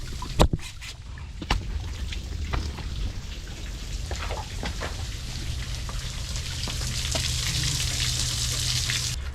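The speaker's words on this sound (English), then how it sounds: "There's the air compressor, never fails." An air compressor cutting on inside a cotton gin building sets up a steady broadband hiss and hum that swells and holds at the end, following a few sharp knocks and clanks nearby.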